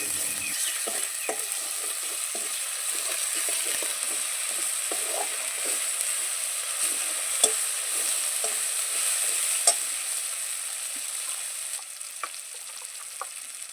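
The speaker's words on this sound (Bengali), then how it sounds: "তারপর আমি 1 চামচ লঙ্কা বাটা ওর উপর দিয়ে আবারও নেড়ে নেব।" Shrimp curry with chili paste sizzles quietly in a pan while a spoon stirs it, giving soft irregular scrapes and clicks over a steady frying hiss, close and with no talking.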